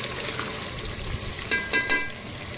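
Chicken sizzles in a pan in its own released juices as spices go in, a steady soft fry with a few sharp clinks and scrapes near the end, close and alone.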